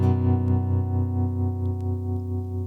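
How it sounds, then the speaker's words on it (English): An acoustic guitar played through a tremolo pedal, sustained strummed chords pulsing with a steady wavering, shaky volume throb, close and clear with no voices. "Does what a tremolo tends to do. Makes stuff sound all shaky and wavy."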